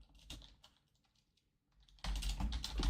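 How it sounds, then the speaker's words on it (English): Typing on a computer keyboard, sparse clicks at first, then a loud rapid burst of keystrokes close by in the final second. "What are you typing down there,"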